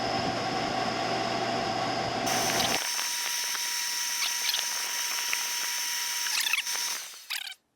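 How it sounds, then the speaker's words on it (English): Pellet stove corkscrew auger motor running on a cheap stove being repaired, a steady mechanical whir with a low hum that cuts out partway, leaving a higher whine that rattles briefly and stops. "let's see if we can get that auger, that corkscrew auger, to move"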